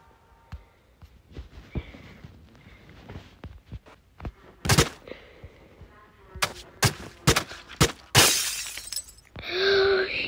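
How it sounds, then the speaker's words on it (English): Glass breaks with a few sharp shattering crashes amid scattered knocks and clatter, followed by a loud sustained whirring burst at the end. "You broke the glass."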